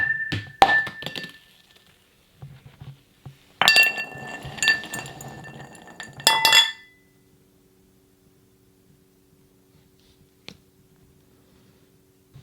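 A cup clinks and thunks in a reportedly haunted house: several sharp glassy knocks and rattling clatters in clusters, fairly close, followed by near silence with one faint tick.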